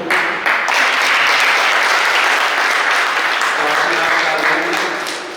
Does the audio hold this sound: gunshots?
no